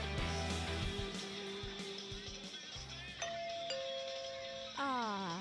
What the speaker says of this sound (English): The sound of my doorbell.